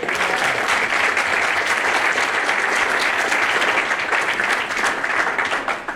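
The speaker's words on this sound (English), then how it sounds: "one more round of applause for Caden." An indoor audience at a fund event gives a speaker sustained, loud applause, dense steady clapping from many hands throughout, tapering slightly at the end.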